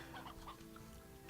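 Hens cluck a few times in quick, soft bursts, faint and brief with no one talking.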